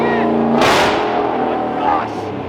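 A Hellcat engine in a 6x6 Jeep Gladiator revs hard through a true straight-pipe exhaust with the pipes cut off, one loud sharp rise and fall over a low rumble, with voices talking over it.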